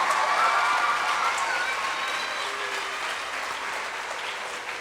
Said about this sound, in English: Let's give a huge round of applause to our much-beloved loved teacher